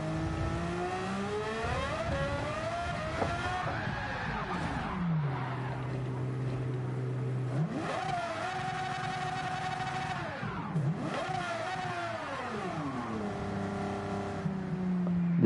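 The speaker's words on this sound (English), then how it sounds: "This car does sound amazing though." Race car engine in Gran Turismo 7 during an online Nations Cup race, revving up through gears with sharp rising and falling pitch sweeps, downshifts and brief tire squeal, loud and continuous.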